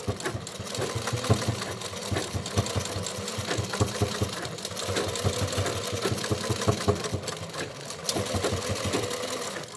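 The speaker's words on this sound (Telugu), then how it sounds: "నేనైతే ఒక 3 బ్యాగులు అయితే స్టిచ్ చేద్దాము అనుకొని స్టిచ్ చేస్తున్నానండి" A sewing machine stitches cloth bags in a steady, fast mechanical rhythm that runs without a break, close and fairly loud, with no voices over it.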